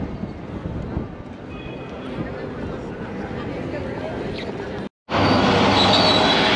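A packed Mexican metro train rumbling and rattling along the tracks with a steady roar, a brief cutout, then louder close-up noise with squealing tones.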